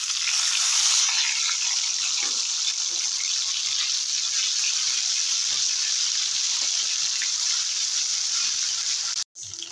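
Bay leaf, cinnamon, cardamom, cloves, cumin, coriander and ginger paste frying in hot oil make a loud, continuous sizzle close up, broken by a sudden brief dropout just before the end.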